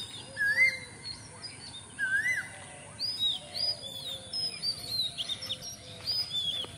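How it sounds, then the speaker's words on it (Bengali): Asian koel and other birds call over ripening rice fields, with repeated rising whistled notes and chirps at moderate distance, with no talking. "ওইদিকে আবার ডাকতেছে কোকিল।"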